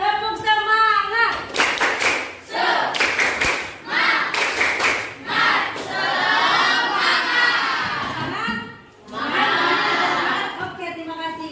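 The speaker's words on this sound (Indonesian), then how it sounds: "Kita tepuk semangat dulu deh semuanya." In an elementary school classroom, children perform a rhythmic spirit clap. Loud bursts of unison clapping alternate with gaps, and the children chant and shout along between the patterns.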